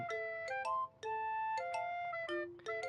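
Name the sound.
phone ringing in video game Doki Doki Literature Club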